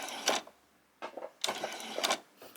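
A sewing machine stitches pyjama bottoms, running in several short bursts of whirring stitches, including a few back stitches, separated by brief pauses.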